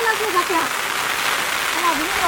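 Steady rain falls during the rainy season over a vegetable patch with bottle-gourd vines, a dense, even hiss throughout, with a voice talking faintly over it.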